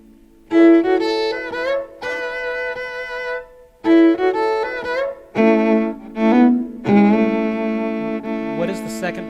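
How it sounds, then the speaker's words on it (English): Two violins play a fiddle intro in harmony, bowing a fuller, layered sound in short phrases with slides and ringing sustained notes, loud and near with pauses between phrases, no talking. "And now with 2 violins."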